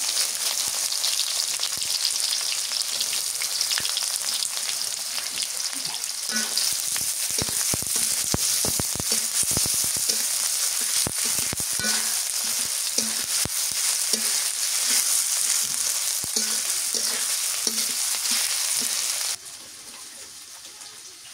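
Chopped onion frying in a pan with cinnamon, cloves and cardamom. A loud, continuous sizzle is broken by irregular scrapes and taps from stirring, and it quiets sharply near the end.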